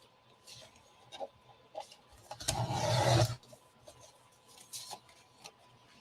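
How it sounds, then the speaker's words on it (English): A piece of paper being trimmed down for a folio craft project: one close, rasping cut lasting about a second, surrounded by small taps and handling clicks. "Let me just trim that down a bit."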